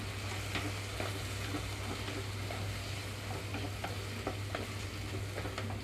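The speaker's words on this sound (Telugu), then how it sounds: "ఇప్పుడు ఇందులోనే గోరుచిక్కుడుకాయ ముక్కలు కూడా వేసేసుకుంటున్నాను." Cut cluster bean pieces sizzle steadily in hot oil in a pan for a curry, with scraping stirs and soft clicks of the spoon, loud and close, no voices.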